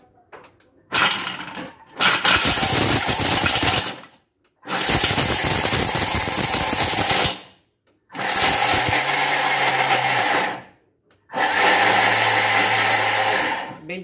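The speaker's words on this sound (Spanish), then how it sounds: "150 gramos de chocolate fondant con golpes de turbo en la Thermomix hasta que quede polvo" Thermomix run in turbo bursts grinding 150 g of dark chocolate into powder: four loud, close pulses of a few seconds each, whirring and rattling, separated by short silences.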